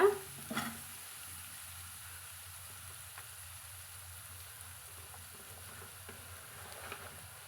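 Chopped small onions (shallots) frying in a pan, a quiet, even sizzle with a brief clatter at the start and occasional soft stirring taps.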